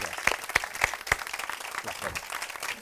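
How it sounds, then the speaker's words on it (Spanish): Audience applause for Ramoncín at a live talk event, with a few loud claps standing out early before settling into steady clapping, while voices speak over it. "un fuerte aplauso para mi amigo Ramoncín"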